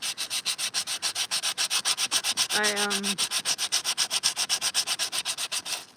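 Coarse, thick-grit sandpaper is rubbed back and forth over a surface in a fast, regular rhythm of about five strokes per second, close and loud, with a brief tonal squeak midway.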